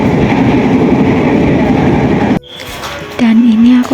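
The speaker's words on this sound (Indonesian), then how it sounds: "Jujur ini aku di dalam kereta tuh ya guys" Interior rumble of a moving passenger train, a dense steady roar that cuts abruptly to quieter cabin noise before rising again with a low droning tone.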